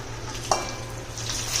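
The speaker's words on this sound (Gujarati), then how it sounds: "હવે આ જ તેલમાં આપણે પનીર અને મશરૂમ એ બંને વારાફરતી તળી લેશું" Paneer and mushrooms frying in hot oil, a soft steady sizzle with stirring and one light clink of a utensil near the start.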